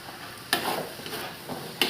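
Vegetables with shallots, garlic and soy sauce being stir-fried in a wok for Indonesian home cooking: a low sizzle runs underneath while the spatula scrapes and tosses in sharp bursts, roughly one every second.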